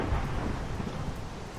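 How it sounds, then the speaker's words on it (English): Steady, dense rain in Minecraft hisses without a break, with a low rumble underneath, continuous and fairly loud, with no voices. "I don't like the sound of rain in this game. It's too realistic."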